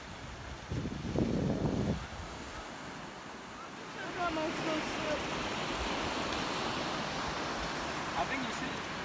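Ocean surf washes steadily onto a beach, a broad continuous roar with wind noise, while puppies play on their first visit to the sand; a brief louder splash or voice appears early on.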